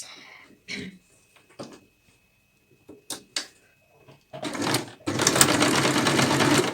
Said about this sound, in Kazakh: Енді екінші жағын тігіп аламыз.